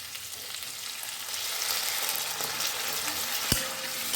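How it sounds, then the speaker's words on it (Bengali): Pumpkin and capsicum curry sizzling in a frying pan, a steady close hiss that swells slightly as a little water is added, with a short sharp clink near the end. "এবার আমি এতে অল্প একটু জল দেব।"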